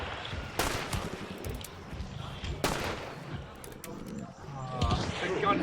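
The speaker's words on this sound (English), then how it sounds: "Also, you hear the gunshots in the distance" Gunshots in the Hunt: Showdown video game ring out in the distance, a few sharp reports spaced seconds apart while players talk over them.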